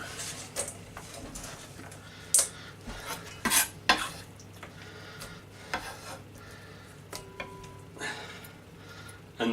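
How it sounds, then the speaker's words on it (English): Sliced chicken strips for fajitas are tipped into a big pot, with scattered metallic clanks, scrapes and clatters of pan and utensils at uneven intervals around a quiet background hum. "what we do is we get that into a big pot"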